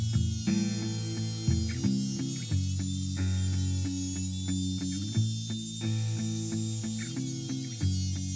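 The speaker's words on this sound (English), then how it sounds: "I use the router to slowly trim away excess material rather than rip straight into the" Hand-held router trimming excess hardwood from an electric guitar body against a template, a steady whining motor hum broken by repeated short cutting passes and bites into the wood.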